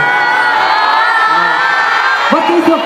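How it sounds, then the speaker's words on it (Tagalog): A crowd of fans shouts and cheers loudly at a fan gathering in Manila, a dense, sustained roar of voices with excited whoops rising toward the end. "Bakit kayo sumisigaw?"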